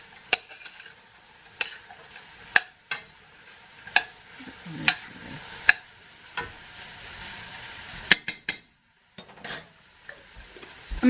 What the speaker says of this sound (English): I'm going to put a couple of bay leaves in here. And give it a good stir.